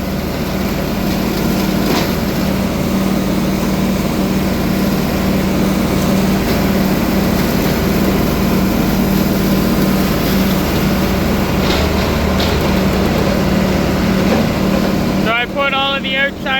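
A tractor-driven bale chopper runs inside a heifer barn, a loud, steady mechanical drone with a rough churning texture that holds constant and ends abruptly near the finish.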